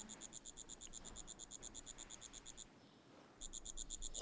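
A captured katydid in a palace garden setting chirps in rapid, evenly pulsed bursts, a long continuous run, a brief pause, then another run, fairly close and clear against quiet background.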